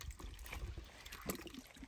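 Water draining out of a pool while Cambodian fishermen catch fish, a steady broadband rush and trickle with splashy bursts, moderately faint, no speech.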